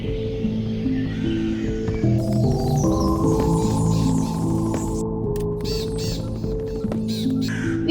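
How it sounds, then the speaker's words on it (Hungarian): Raven-like bird calls in a horror mod video game, repeated caws and croaks layered over a steady droning game soundscape with a low hum, fairly loud and continuous throughout. "De nagyon ilyen madárhangokat hallok innen. Mi ez, holló, vagy mi ez?"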